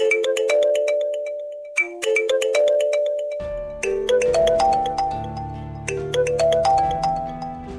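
A phone ringtone plays for an outgoing call, a repeating melodic chime pattern that is clear and alone, restarting after a short pause and then continuing over a fuller tone.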